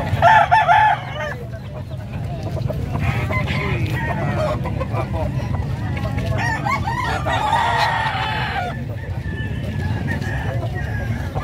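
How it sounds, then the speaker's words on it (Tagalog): Roosters crow and chickens cluck loudly amid a busy livestock market in San Carlos City, Pangasinan, with people talking and bargaining throughout. "Daming manok yan guys"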